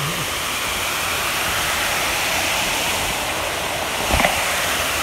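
A waterfall at Yellow Springs park rushes in a dense, steady roar that fills the scene throughout, with a faint brief voice near the end.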